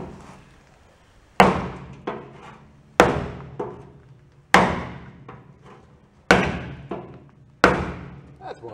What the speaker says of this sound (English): Piece of wood and a hammer.